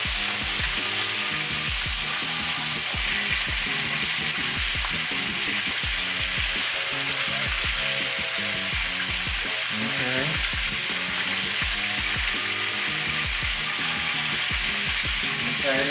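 Quail meat sizzling loudly in a pan, a bright continuous hiss broken by rapid scraping and clattering of a utensil stirring the pieces, up close, with no speech.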